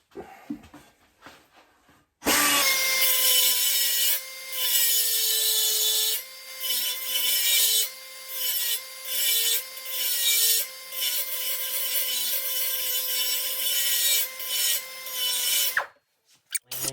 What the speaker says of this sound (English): I'm gonna grind a little bit more.